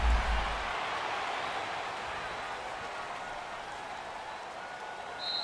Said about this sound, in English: the home crowd applauding